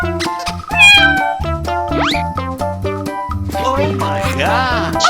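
A cartoonish cat meows in a 3D animal sliding video game, several bright repeated meows over a bouncy musical backdrop with a springy boing effect, loud and close.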